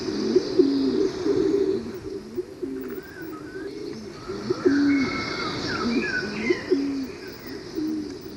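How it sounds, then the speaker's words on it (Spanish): A laurel pigeon (paloma rabiche) calls in the forest of the Caldera de Taburiente on La Palma, giving repeated low hooting coos in a steady series, fairly close, with faint higher bird chirps in the background. "atraen a la paloma rabiche, una de las aves más interesantes y esquiva de las que habita en la caldera"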